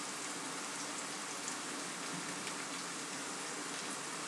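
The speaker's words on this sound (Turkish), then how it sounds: "Bunu artık ben böyle kavuracağım, bırakacağım." Spinach sautéing in a pan: a steady, even sizzle and crackle of leaves frying, continuous and fairly close throughout, with no talking.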